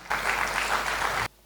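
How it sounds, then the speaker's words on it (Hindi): An audience at an award ceremony for environmental champions breaks into dense applause that holds steady for about a second, then cuts off abruptly. "एक बार जोरदार तालियां हो जाएं"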